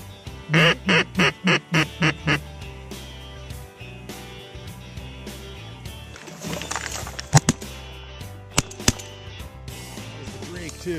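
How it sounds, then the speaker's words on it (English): Wood ducks quack in a rapid burst of about seven calls close by during an opening-day duck hunt, followed by quieter rustling, sloshing and sharp knocks near a boat. "Those are wood ducks again."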